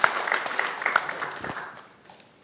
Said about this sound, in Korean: 박수, 이럴 때 박수 한번 보내줘야 되는 거 아닙니까 우리가?